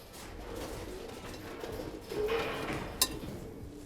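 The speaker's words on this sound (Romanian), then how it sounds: "porumbeii se duc frumos la compartimentul lor" Pigeons coo softly inside a breeding loft, a low murmuring call rising midway through against faint background rustle, with a brief metallic clink near the end.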